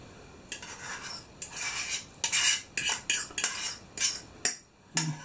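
A fork whisks a mashed pilchard and tomato mixture in a bowl, with a close run of quick scraping, clinking beats in bursts and brief pauses between strokes.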